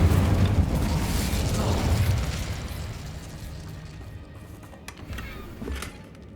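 Incendio fire spell cast in Hogwarts Legacy, a loud roaring whoosh of flame that swells at the start, stays dense for about two seconds, then tails off with a few fainter pops and crackles.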